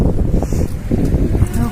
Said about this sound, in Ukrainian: О, вітер.